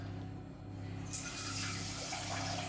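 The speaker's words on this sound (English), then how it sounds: "if you get your deep saucepan, we get our poaching liquor on, so you can fill it up with some water" Tap water pours into a deep saucepan to make a poaching liquid in a home kitchen, a quiet steady rush that brightens and hisses as the pan fills.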